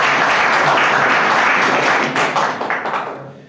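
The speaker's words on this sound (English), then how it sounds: "Shall we give him a round of applause?" Loud, dense applause from a conference audience at a COP21 event in Paris fills the clip, holding steady before tapering off near the end.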